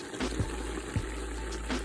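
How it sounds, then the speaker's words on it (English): A pot of water at a roaring boil for cooking greens, a steady rushing bubbling with faint periodic low thumps, moderately loud and without talk. "You hear that roaring boil"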